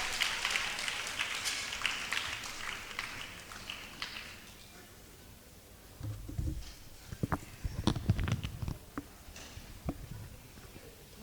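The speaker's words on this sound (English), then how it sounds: "Please, a round of applause to her as she comes up stage." An audience at a university faculty ceremony applauds as a woman comes up to the stage, a faint patter of clapping over the first few seconds that thins into scattered taps and shuffling.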